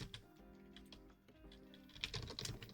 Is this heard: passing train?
no